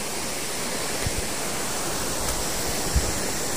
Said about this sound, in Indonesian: Ini sungainya di bawah.